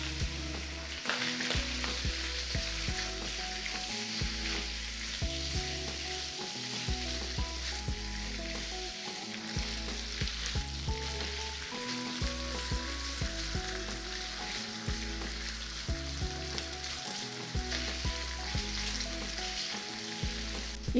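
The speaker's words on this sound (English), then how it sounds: "you can hear the cracking noise from the cooking of the pork belly" Pork belly slices frying in oil in a wok, a constant loud sizzle with crackling pops and a rhythmic low scraping of stirring throughout.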